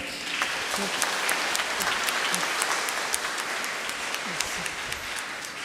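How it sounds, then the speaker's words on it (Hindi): A packed congregation at St. Alex Church in Calangute applauds steadily during a Harvest Festival (Migrants Day) celebration, with many hands clapping in a continuous, moderately loud roar. "फादर जी को धन्यवाद देते हुए जोर से तालियां बजा दें।"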